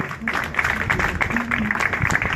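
Crowd applause for a bartender presenting two cocktails at a bartending competition, a steady patter of clapping with voices talking over it throughout.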